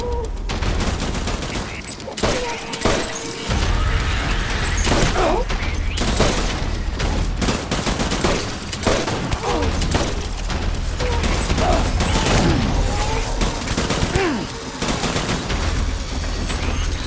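Sustained bursts of automatic gunfire and rattling mechanisms from a firefight in the video game Death Stranding, loud and dense throughout with heavy low booms and brief gaps.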